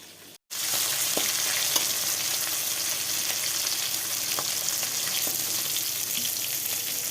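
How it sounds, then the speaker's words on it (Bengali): Loud, dense sizzling of fish frying in hot oil, constant and close, with faint crackles throughout after a brief silence at the start. "মাছগুলো আমার ভাজা হয়ে গেছে, আমি তুলে নিচ্ছি।"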